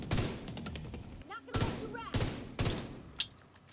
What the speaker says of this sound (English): It's a fucking sniper.